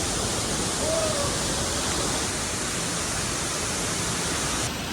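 A hidden waterfall in Vasco, Goa roars as a constant, loud wash of falling water, heard close and unbroken, with only the faintest hint of a voice underneath.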